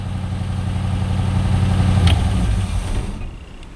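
An old Chevrolet Suburban engine idles steadily with a low, even rumble and light clatter, running on its own without talk before cutting quieter near the end.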